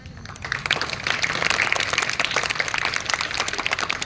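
A student audience at a Hindi motivational speech claps steadily and densely for about four seconds, a broad sustained wash of many hands that starts just after a brief quiet moment.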